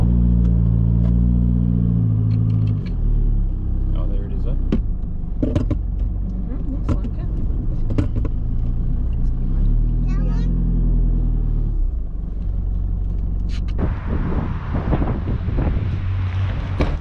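A car drives along a road, heard as a continuous low engine drone with heavy wind rush and scattered knocks and rattles, the noise swelling brighter near the end.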